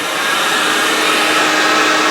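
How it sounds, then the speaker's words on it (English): A Karcher Puzzi 100 carpet and upholstery cleaner runs its vacuum with a loud, steady, even whoosh and whine, close up and unbroken, with no speech. "And there's the vacuum."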